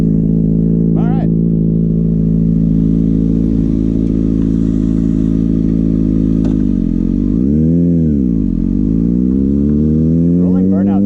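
A Kawasaki ZX-6R motorcycle engine hums steadily up close during a rolling burnout, then its pitch sweeps down and back up as the revs dip and rise again.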